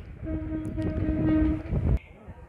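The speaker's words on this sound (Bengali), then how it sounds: "এই ট্রেনটি যাবে," A train horn sounds in long sustained blasts over the rumble and clatter of a train pulling into Jamalpur railway station in Bangladesh, then cuts off abruptly, leaving quieter station ambience.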